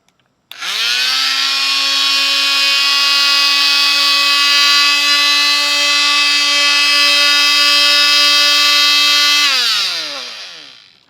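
An oscillating multi-tool fitted with 1200-grit sandpaper on an old pad sharpens a knife edge. It runs up to a loud, steady high-pitched buzzing whine that holds for about nine seconds and then winds down, close up with no talking.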